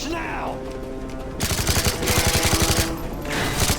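Rapid gunfire in the Call of Duty Modern Warfare 3 campaign, with loud automatic bursts rattling in quick succession through the second half, layered over game effects and a voice speaking.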